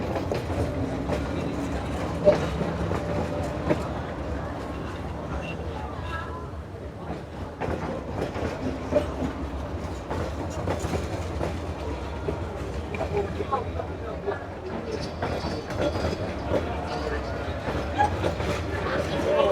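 A long train with many carriages rolls steadily past nearby in Hanoi, a continuous rumble with clickety-clack wheel beats and occasional squeal, while people chat over it.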